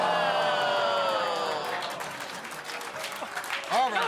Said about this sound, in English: Don't groan and applaud.